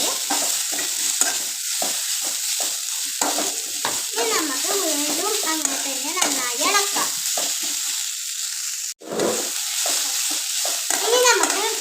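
Onions going into a pan for chicken curry, a loud continuous sizzle with stirring scrapes, and a voice talking over it throughout, briefly dropping out near the end.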